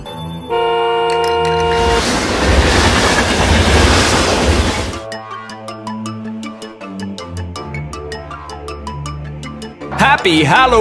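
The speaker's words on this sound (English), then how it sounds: "Train." A cartoon train rumbles and clatters in a loud, noisy burst for a few seconds, with bright, tinkling children's music around it and a voice near the end.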